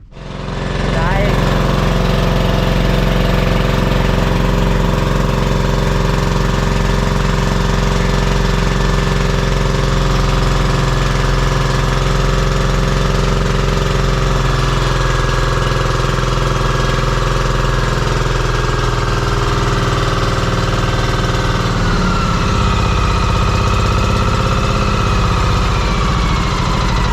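A loud, constant boat engine drones close by, a steady mechanical rumble with vibration that barely changes for nearly half a minute.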